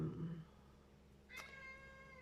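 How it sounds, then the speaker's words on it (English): A house cat meows once, a clear drawn-out call that starts suddenly and trails off, fairly close against a quiet room after a brief low murmur at the start. "So my cat Phoenix is also wanting to join the reading"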